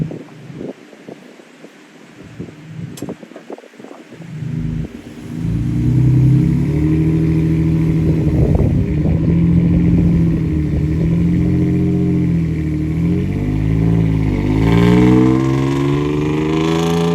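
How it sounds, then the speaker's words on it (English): A Subaru's engine revs steadily while the car is pulled free outdoors, a loud sustained drone with rising and falling pitch after a few seconds of quieter wind and rustling. "just give me a little bit of gas and straighten that wheel out"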